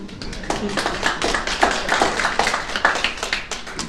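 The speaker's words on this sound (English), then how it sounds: "Give me a round of applause." A small audience at a real estate training session gives a light, uneven round of applause, individual claps distinct and close, scattered rather than a full roar.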